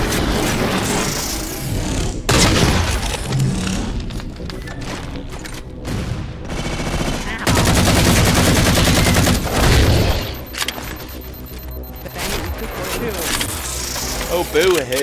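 Rapid bursts of gunfire in a Halo 4 Spartan Ops firefight, dense and loud across the whole stretch, with someone talking over the shooting.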